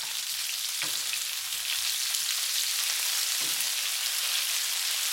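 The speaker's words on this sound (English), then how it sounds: "Stir around the beef." Beef sizzles steadily in a hot pan as it is stir-fried for a cumin beef dish, a dense continuous frying hiss with a couple of brief stirring knocks, no voices.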